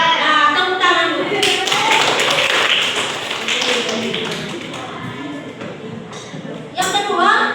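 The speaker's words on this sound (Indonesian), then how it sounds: "Nah, tepuk tangan dulu." Schoolchildren in a classroom clapping their hands in unison, quick rhythmic claps and taps close by, with a teacher and kids talking over them.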